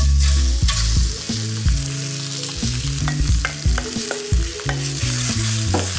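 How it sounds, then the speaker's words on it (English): Shrimp hit a smoking-hot oiled pan and sizzle loudly and steadily, with scraping stirs and clatter from spreading them out, close up with no talking. "Put some oil down and get the shrimp in"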